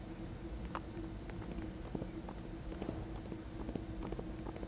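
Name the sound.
horse hooves clip-clop in video game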